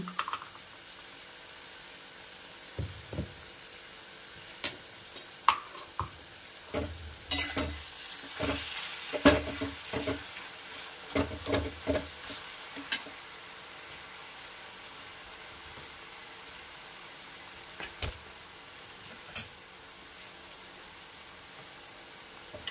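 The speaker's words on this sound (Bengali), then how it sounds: "ভালো করে সাঁতলাবো।" Brinjal and egg sauté in a pan, a low steady sizzle broken by repeated scraping and clacking stirring strokes, busiest in the middle stretch.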